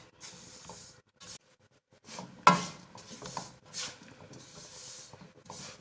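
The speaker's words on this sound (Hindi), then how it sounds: "मैं पहले आटा भून रही हूँ बेसन उसके बाद भूनेंगे" Wheat flour dry-roasting in a pan for laddu, with intermittent scraping and stirring strokes, soft sizzling hiss and one sharp clink of the spoon against the pan, close and fairly quiet, with no talking.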